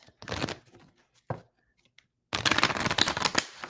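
Quick riffling bursts of a deck of cards being shuffled close up, two short bursts then a longer run after a pause.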